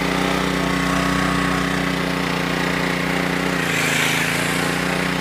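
A small jigsaw cuts while running off a vintage Honda E300 portable generator, its steady, loud mechanical buzz and engine drone continuing throughout, with a slight shift in tone near the end.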